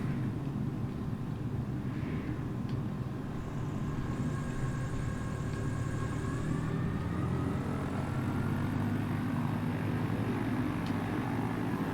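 A propeller plane taxis in Microsoft Flight Simulator in the Bahamas, its engine a steady droning hum with a faint rising whine, continuous and close without any talk.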